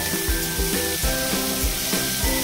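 Masala spices fry in hot oil for a mixed vegetable sabji: a dense, loud, continuous sizzle and hiss close by, with soft rhythmic knocks running underneath.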